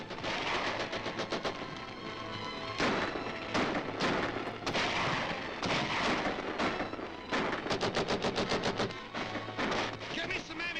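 Cannon blasts and rapid gunfire in a battle scene from a 1941 Captain Marvel serial, loud, dense and continuous, with crackling volleys and booming shots.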